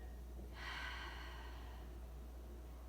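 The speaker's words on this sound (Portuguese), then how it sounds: "Inspira e solta." One soft, airy breath drawn in and released during a calm guided breathing and stretching session, quiet and close over a low background hiss.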